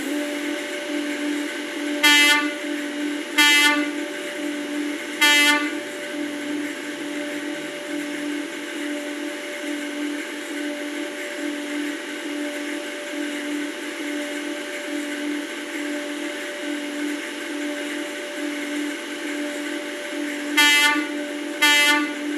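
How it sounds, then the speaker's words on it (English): Network commuter train approaching a platform with a steady rumbling drone, its horn sounding in three short blasts early on and two more near the end. "The train now approaching the platform is a network commuter service."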